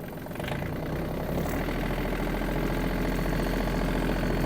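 A Yanmar RS-24 Japanese mini tractor's diesel engine chugs steadily and loudly close by, rising slightly as it pulls away in first gear, with a constant rumbling throb and no talk.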